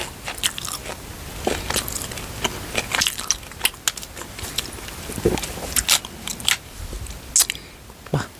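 Close-up crunchy biting and chewing of enoki mushrooms wrapped in bacon, irregular crisp crackles and wet mastication sounds filling the clip, with no talking.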